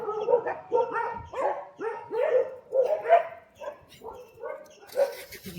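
A dog barks repeatedly in quick, loud bursts close by, around ten barks in a fairly steady rhythm.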